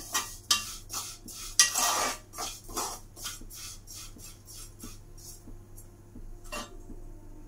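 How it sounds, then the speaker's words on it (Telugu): A spoon stirs vermicelli payasam in boiling milk, making a series of sharp metallic clinks and scrapes against the pot in an irregular rhythm, close and clear with no talk. "ఇలా పాలు బాగా మరుగుతున్నప్పుడు ఒకసారి ఇలా బాగా కలుపుకోవాలి"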